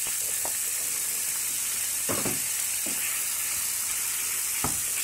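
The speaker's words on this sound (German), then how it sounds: "Und dann werden wir erstmal so ein bisschen das Hackfleisch anbraten" Minced meat fries in a pan for lasagne bolognese, giving a steady sizzle and hiss with a few scraping stirs, close and moderately quiet, with no talking.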